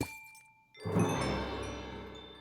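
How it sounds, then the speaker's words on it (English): A hammer smashing a block in a modded Minecraft pack, heard as one sudden crunching, glassy break that follows a faint tone and rings out briefly on its own. "And then I believe I can use a hammer"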